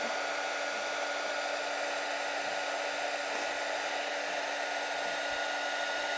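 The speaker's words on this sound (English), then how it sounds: "this gets super hot, like 400 degrees kind of hot, the heat gun" A heat gun used for crafting blows hot air in a steady, even whoosh with a constant motor whine, heard alone at moderate level throughout.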